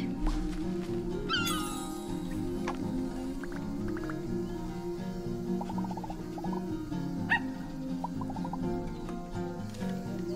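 Wildcat calls in the wildlife game Alba: short meow-like cries and chirps pop out at intervals over a steady bed of game music and ambient sound.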